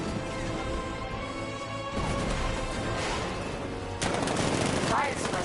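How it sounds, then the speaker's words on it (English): Tank 60mm cannon fire in the video game Batman Arkham Knight, loud repeated blasts and crashing impacts in dense game action, with a sharp burst near the end and game voices speaking over it. "60mm cannon operational."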